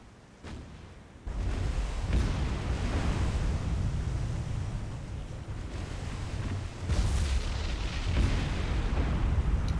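Heavy booming explosions of warship magazines in a naval combat video game, with rumbling roar on and off throughout, a big blast near the start and another surge later, dense and continuous.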